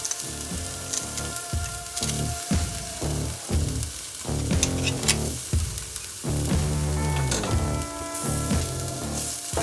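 Onions and garlic sautéing in oil in a pan, a strong steady sizzle punctuated by stirring scrapes and brief dips in intensity, heard up close without talk.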